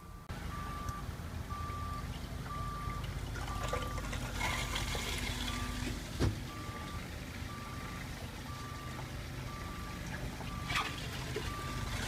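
RV water pump on a 2014 Jayco Flight Baja running steadily while drawing antifreeze through the lines during winterization, a continuous low hum with trickling liquid and a repeating faint beep in the background.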